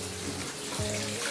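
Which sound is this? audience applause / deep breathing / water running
water running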